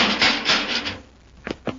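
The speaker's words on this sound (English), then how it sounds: "Pull that door shut and throw the bolt." Radio drama sound effect of a wooden door being dragged shut, then two sharp clunks as the bolt is thrown, all close up without talk.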